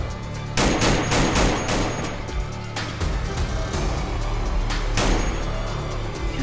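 Gunfire in the DayZ video game: several sharp shots spaced a second or two apart, with a loud burst early and another near the end, over constant background game noise.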